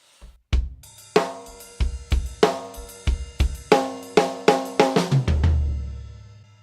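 A drum kit plays a short fill across snare and toms, leading straight into a tom groove. Sharp, loud hits land in an uneven run, then settle into a steadier low tom pattern that rings out at the end. No voices.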